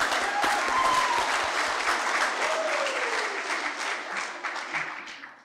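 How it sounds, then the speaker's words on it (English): Audience applause at a school prizegiving, a steady broadband wash of many hands clapping that holds for several seconds and tapers off at the end, with faint room tones underneath. "Another round of applause,"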